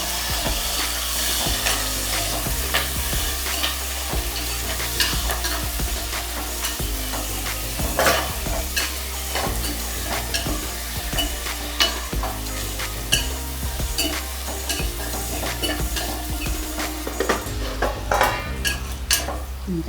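Onions and green chilies fry in a pan for a Bagara rice dish, a steady broadband sizzle running throughout with repeated scraping stirs and occasional utensil clinks against the pan, close and continuous.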